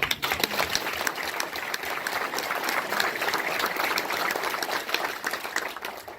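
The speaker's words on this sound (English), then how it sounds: "And again, another round of applause." Crowd applause at a community event honoring a sheriff, a full, steady roar of many people clapping that holds evenly throughout, moderately distant and continuous.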